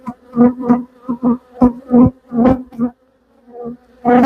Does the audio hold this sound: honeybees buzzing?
yes